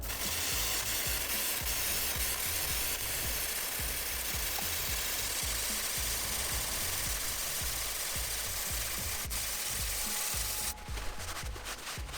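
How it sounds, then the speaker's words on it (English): A chain is cleaned with continuous close scrubbing and rubbing, a dense steady rasping texture with fast repetitive strokes and a faint mechanical rattle, alone without speech. "as I'm going through and just cleaning it, it's loosening the chain up"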